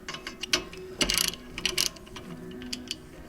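Close ratchet clicking as a brake caliper bolt is broken loose on a 2009 Chevy HHR: several short, sharp bursts of pawl clicks, the loudest near the middle, with quieter ratcheting around them.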